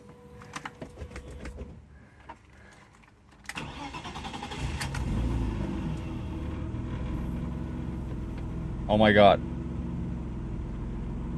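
BMW E36 car engine cranks and catches after an engine swap, then settles into a steady, fairly loud idle close by, with brief voices and a short sharp burst of talk over the running engine.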